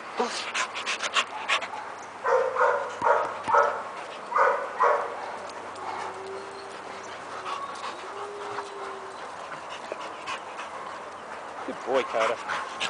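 A dog pants at a dog training boarding school, with short breathy bursts repeating near and loud between spoken praise from a trainer, plus some faint yips and whimpers.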